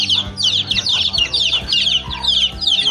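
Black Australorp and Rhode Island Red hens cluck steadily at close range, a busy overlapping chorus of short calls from a poultry setup, with no talking.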